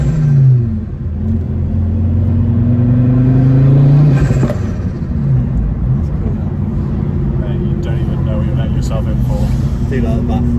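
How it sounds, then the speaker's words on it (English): A Ford Focus RS engine warming up with a fluttering idle, a loud steady rumble with a rising rev near the start, while people talk over it. "Let the car warm up first. It's got a nice little flutter, isn't it?"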